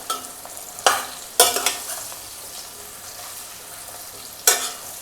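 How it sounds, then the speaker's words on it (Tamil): Gooseberries (amla) are stirred and sautéed in a pan for an instant pickle, with a faint sizzle beneath a few sharp scraping clatters of the spoon against the pan, close up and without speech. "ஒரு தடவை நல்லா மிக்ஸ் பண்ணி விட்டுருங்க நெல்லிக்காயை."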